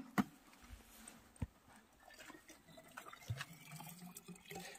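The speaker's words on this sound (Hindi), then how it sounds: "और गर्म पानी डाल रहे हैं इसमें ताकि कुछ फर्क पड़े" Hot water being poured in to thaw ice on a Spiti Valley road trip, faint splashing and trickling with a few sharp knocks, quiet and close with no talking.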